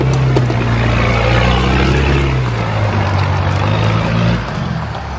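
A Land Rover Defender 90 crawls a technical off-road trail, its engine holding a steady low drone with harmonic hum that shifts slightly before easing off near the end, close and continuous.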